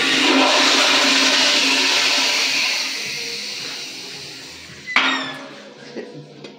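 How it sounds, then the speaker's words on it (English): Short flush of a Kohler toilet: a loud sustained rushing, gurgling wash of water that gradually fades, followed by a sharp knock and a few scattered clunks near the end. "Shred because of a short flush, so yeah."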